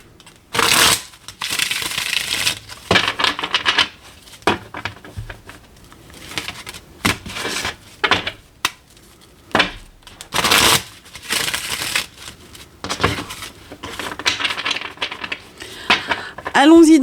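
Tarot cards being shuffled by hand, with bursts of riffling and flicking in irregular clusters, close and fairly loud, separated by brief quiet gaps.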